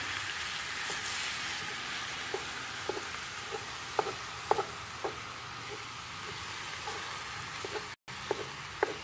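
Venison browning in a 9-quart Lodge cast-iron dutch oven, a low constant sizzle with occasional sharper spits and scrapes of stirring, fairly quiet and steady, no talk.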